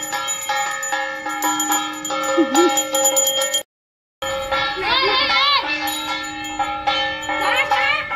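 Bells ring steadily during a Rath Yatra chariot festival, a bright sustained metallic tone running throughout with one brief silent gap, while children's voices and shouting chime in over the ringing.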